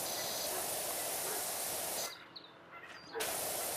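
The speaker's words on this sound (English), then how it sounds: "I'm gonna have to put some more soap down." A pressure washer in PowerWash Simulator 2 lays down soap in a steady, loud hissing spray that cuts off for about a second before resuming, heard close with no talking.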